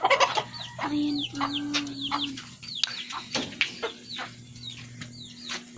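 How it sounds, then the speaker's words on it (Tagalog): Chickens on a farm in Bohol cluck and chatter repeatedly at close range in short, uneven bursts, with a person speaking briefly among them. "Ayan ang mga chicken."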